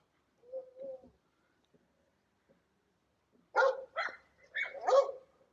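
Dogs barking, several short yelps and barks in two clusters, a soft pair early on and then a louder burst of closely spaced barks near the end, with quiet gaps between.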